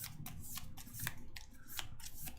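Playing cards from a Marvel Champions game are shuffled in quick riffling bursts, a series of crisp papery rasps repeating close by, with no talk.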